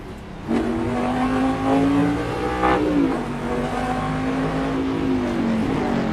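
Supercharged car engine in the Assetto Corsa racing game, revving hard and climbing through the gears with a clear shift dip near the middle, loud and steady with no voices.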